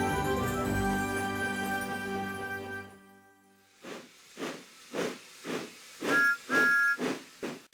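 A steam locomotive in a Thomas the Tank Engine cartoon, where a sustained musical tone gives way to rhythmic puffs of hissing steam, with a short two-note whistle sounding among the final bursts.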